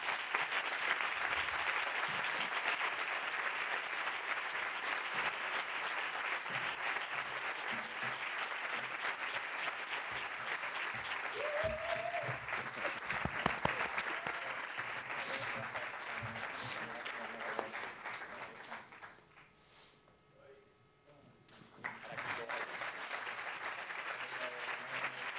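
Sustained crowd applause at a film festival closing gala in Benalmádena fills the room, steady and dense, briefly dipping near the end before swelling again.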